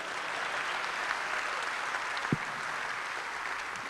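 Steady applause from a banquet audience at an alumni dinner, a dense, even wash of many hands clapping throughout with one sharp knock near the middle.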